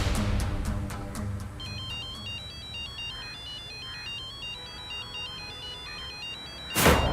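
A phone ringtone chimes a bright repeating electronic pattern, fairly clear and steady, ending with a sudden loud burst.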